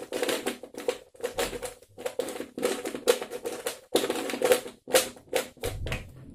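A lubed Fanxin puzzle cube turns in quick bursts of clicky, clattering plastic layer turns, close up and fairly quiet, with short pauses between moves and no speech.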